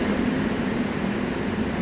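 An airport tram at Las Vegas runs between concourses D and E, giving a steady, moderately loud rumble and hiss from a near, continuous ride with no voices.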